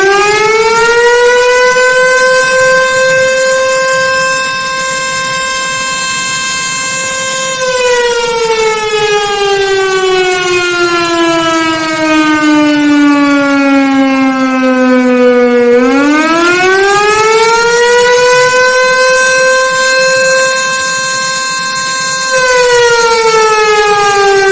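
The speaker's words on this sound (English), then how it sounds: "the Spanish city of Guernica once again sounds the sirens" Civil defense air raid sirens in Guernica, Spain, sound loud and close for a long stretch. The steady wailing tone slowly falls in pitch, then rises again and holds, with no voices over it.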